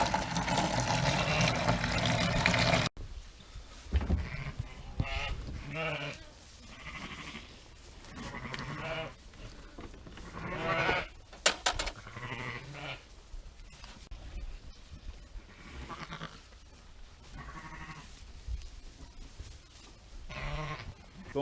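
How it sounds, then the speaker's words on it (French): Ewes in lambing pens bleat repeatedly, loud and near, with overlapping calls spread through the whole stretch and a burst of running water or filling noise at the start. "vas-tu te décider à agneler là plutôt que de bêler tout le temps là"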